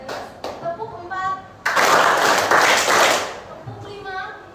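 Students in a junior high classroom in Singaraja clap in unison for an ice-breaking clap game. Four sharp claps come in quick succession, with children's voices speaking just before and after.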